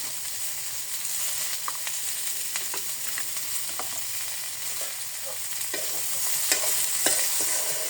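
Cauliflower with a few tender stalks being stirred and fried in a pan, a steady close sizzle broken by scattered scraping clicks of the utensil against the pan, with no voices.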